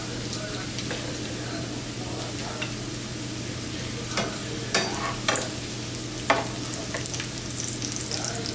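Meat for charro beans fries in its own grease, a steady close sizzle and crackle with occasional stirring scrapes and pops, no voices heard.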